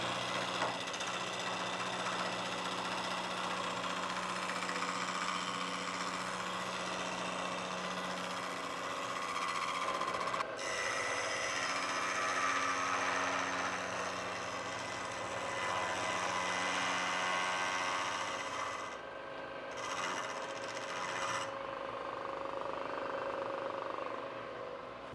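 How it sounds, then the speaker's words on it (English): A power drill whines steadily for a long stretch, grinding into a metal bicycle swingarm tube with a continuous buzzing drone and a few brief pauses and shifts in pitch. "So I'll do a few sort of drill cuts first and then"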